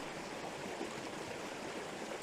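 A winter stream rushes steadily over a small waterfall, a continuous broad wash of flowing water at close range with no voices.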